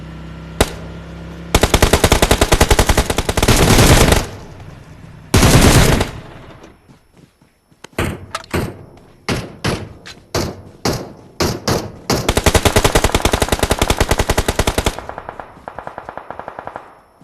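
Gunfire in PUBG on the Livik map: loud sustained automatic bursts alternate with rapid single shots and short pauses, close and dominant throughout, no voices.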